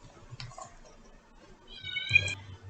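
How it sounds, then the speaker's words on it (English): A single high, thin kitten meow near the end, close by, preceded by soft faint rustling. "Can you hear my kitten?"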